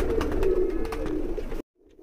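Continuous low cooing from a high flyer pigeon, close and steady, with faint fluttering clicks above it, cutting off abruptly before a brief quiet tail.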